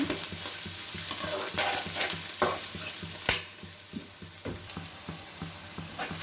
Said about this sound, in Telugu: ఉల్లిపాయలు కొంచెం ఫ్రై అవుతున్నప్పుడు కొంచెం కరివేపాకు వేసుకోవాలి